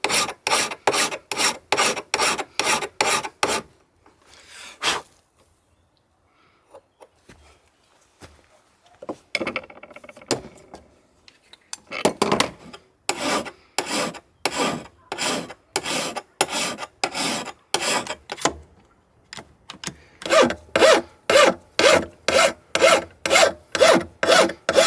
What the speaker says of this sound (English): Essentially what I'm doing here is only sharpening, only putting a bevel on one side, essentially making an extremely large chisel.